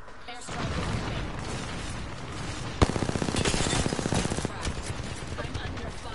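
Video game gunfire and explosions: a loud boom, then a rapid burst of automatic fire with evenly spaced shots, over continuous battle noise and occasional voices.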